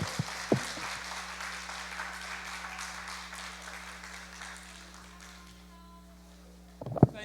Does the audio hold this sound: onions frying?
no